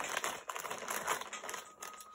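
A plastic mail package is ripped open by hand, giving close, crinkly tearing and rustling bursts that come in quick uneven spurts.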